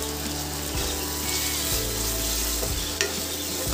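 Ginger-garlic paste, cumin powder and other spices sizzle in hot oil in a frying pan while being stirred for Bengali mutton ghugni, a steady crackling hiss with periodic scraping thumps of the spoon, close and alone.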